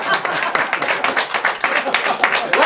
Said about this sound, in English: It's going to be really cool. Applause.